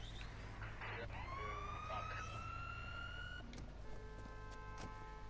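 Ambulance siren in the Watch Dogs video game, a rising and wailing electronic tone heard at moderate distance over a constant low rumble of city traffic and engine noise.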